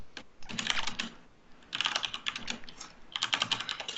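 Fingers tap quickly across a computer keyboard in three bursts of rapid clicking with short pauses between them, close and clear with no voices.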